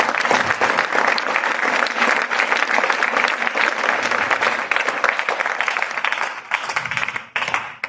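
Sustained applause for a school principal from an audience at a Constitution Day celebration in a school courtyard, dense and loud hand clapping that holds steady for several seconds before tapering off near the end.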